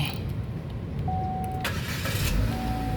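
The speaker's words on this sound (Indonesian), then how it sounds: "sekarang kita coba nyalakan mobilnya" A 2013 Chevrolet Spin 1.5 LTZ automatic car cranks and its engine catches near the microphone, followed by a steady running hum, with no talking over it.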